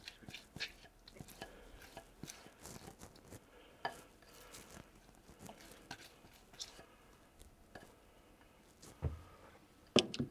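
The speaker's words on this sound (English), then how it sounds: "I'm going to stir that through to get it mixed in." Bread and fruit mixture being stirred for a traditional British bread pudding, with soft scraping and patting strokes in a bowl, occasional clinks of utensil against the dish, and a sharper knock near the end.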